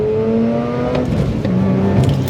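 Mazda RX-8 rotary engine revs and accelerates up close, a loud rising whine that climbs, dips at a shift, then pulls again, heard without talk.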